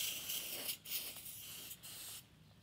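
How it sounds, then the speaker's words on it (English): Long-term wax sprayed from an aerosol can onto Land Rover axle surfaces during chassis assembly gives a steady close hiss in a few short bursts, with brief pauses between them. "I sprayed some long-term wax on the surfaces"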